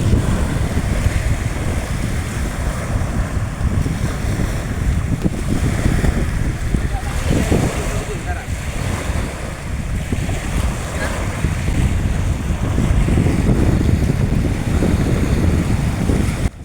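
Waves washing onto the sea beach at Nazirartek, Cox's Bazar, under constant wind, a loud, steady surf roar with rolling swells and heavy wind buffeting on the microphone.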